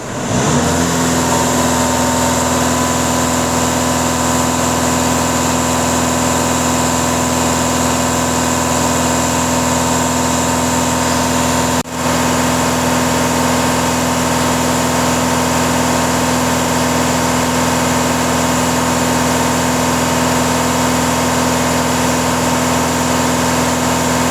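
A 2.0 TDI diesel engine in an Audi runs steadily at idle, a constant close hum with a high whine that barely changes across the whole stretch, briefly interrupted midway by a tiny dip.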